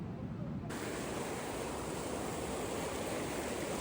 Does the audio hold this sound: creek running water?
yes